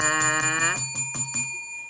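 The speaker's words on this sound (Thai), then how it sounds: "กดกระดิ่งกริ้งกริ้ง" A notification bell sound effect rings out loud and clear. One long shimmering tone fades away, then a rapid series of bright metallic strikes follows, each decaying quickly.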